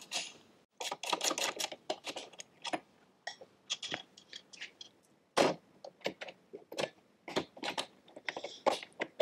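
Repeated rapid clicks of a socket ratchet working loose the pedal bolts on a kids' go-kart pedal assembly, close and crisp, arriving in irregular bursts with short pauses between strokes.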